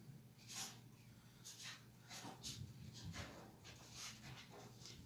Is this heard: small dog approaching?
yes